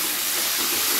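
Chopped tomato hitting a hot pan of onions fried until reddish, giving a loud, continuous sizzle and hiss at close range for about a second.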